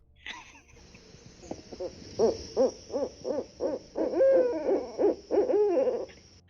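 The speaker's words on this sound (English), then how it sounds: "is that the owl?" An owl hoots in a long run of about a dozen evenly spaced calls, clear and fairly close, each hoot a short rounded note, preceded by a brief soft noise and a low background hiss.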